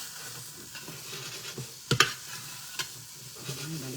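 Tomato slices sizzle steadily in a frying pan as they are stirred and flipped, with a couple of sharp scrapes and clinks of the utensil against the pan.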